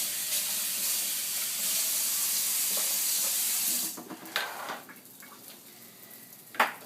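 French toast fries in a pan with a strong, steady sizzle for about four seconds, then the hiss drops away, leaving quieter scattered pops and clicks and one sharp knock near the end.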